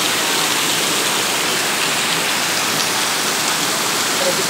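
Heavy rain pours down outdoors in August, a dense, loud, unbroken hiss of water on surfaces that stays constant throughout, with no voices over it.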